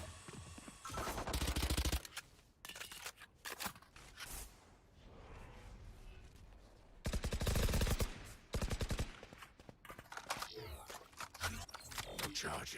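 Rapid pistol shots ring out during a competitive Valorant esports match, coming in dense clustered bursts with quieter stretches between them, while a caster talks over the action.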